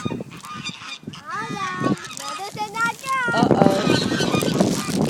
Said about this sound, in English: here comes some more of those mean geese